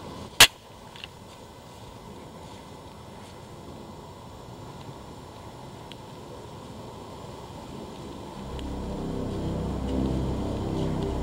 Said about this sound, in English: Here's an example of one flintlock misfire, a flash in the pan, and just a plain miss at close range by yours truly.